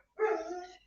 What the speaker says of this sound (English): now my dog's very excited.